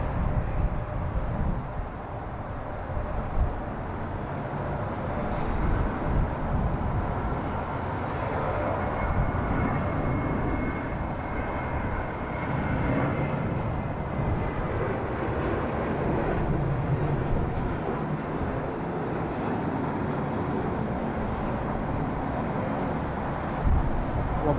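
Jet airliners taking off from runway 16 right at Sydney Airport in high wind, a steady broad engine roar that stays loud and continuous throughout, mixed with gusting wind noise on the microphone.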